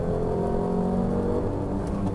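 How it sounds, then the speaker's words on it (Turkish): A Fiat 500 with a 0.9 Turbo engine revs steadily upward toward 5500 rpm, a continuous rising whirring drone heard from inside the car, loud and with no talking over it. "Bu arada bu motor ile 5500 devreye kadar çevirebiliyorsunuz"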